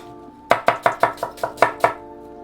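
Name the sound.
knife chopping an onion on a board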